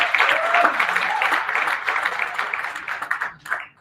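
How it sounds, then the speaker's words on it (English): A crowd at a Selma event marking Bloody Sunday applauds Black Voters Matter co-founder Cliff Albright, dense clapping with some cheering that tapers off toward the end. "let's give Cliff Albright a round of applause"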